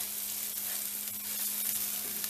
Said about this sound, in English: Now, while this is sauteing, and I have it on low,